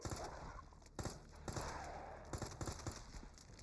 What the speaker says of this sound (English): With my very loud gunshots.